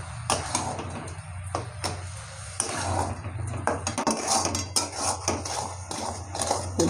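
Coconut and sugar stirred together in a pan over medium heat for Bengali coconut nadu, with steady scraping of a utensil and repeated clinks and knocks against the pan's sides and bottom, close and continuous.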